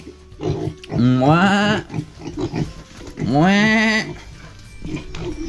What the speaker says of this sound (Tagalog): Mga biik na tilali, no? Malalaki na, oh.